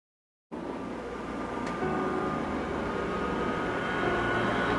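Jet aircraft in Ace Combat 7 starts after a brief silence with a steady, loud engine roar and high whine that builds gradually, alone without talk.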